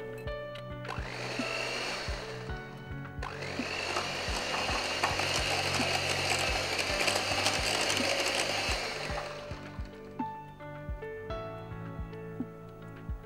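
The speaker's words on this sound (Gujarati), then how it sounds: "બીટ કરી લઈએ મિશ્રણને." An electric mixer or beater whirs steadily through a batter mixed with ripe papaya puree, running in two long bursts with a brief pause between and faint rattling clicks as it winds down.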